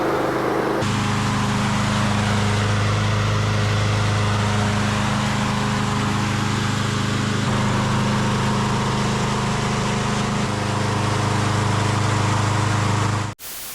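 Ariens Razor Reflex lawn mower engine running steadily and loud for over thirteen seconds, a smooth continuous drone with slight shifts in pitch, then cutting off abruptly at the end.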